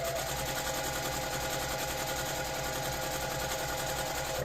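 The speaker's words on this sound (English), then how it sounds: "we're going to go to the machine and top stitch this before we close up our piece" A sewing machine runs steadily while top stitching the edges of a fabric heat pack cover, a continuous close mechanical whir with rapid needle rhythm and no talk.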